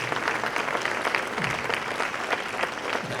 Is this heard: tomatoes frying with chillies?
no